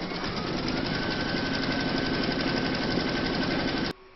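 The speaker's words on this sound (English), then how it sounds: "Pop your hoop into your machine and stitch round number two to secure them." An embroidery machine stitches fabric on a quilt topper, giving a loud, steady mechanical whirr with a fast repeating needle rhythm that stops abruptly near the end.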